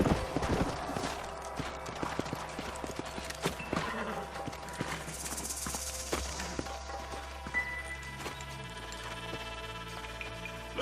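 Horse hooves clopping in the video game Red Dead Redemption, a busy rhythm of hoofbeats amid a layered game soundscape with some faint voices.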